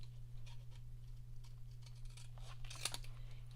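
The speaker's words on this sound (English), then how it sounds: "I'm just going to cut it like this." Scissors snip through stamped card paper for a handmade Dutch-door card, a few quiet crisp cuts close by, the loudest near the end, over a steady low electrical hum.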